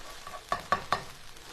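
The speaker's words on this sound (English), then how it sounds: "sauteing these herbs, I think, really kind of wakes up the flavors of the herbs in the oil." Herbs sautéing in oil in a pan, with three quick stirring scrapes in a row over a faint, soft sizzle.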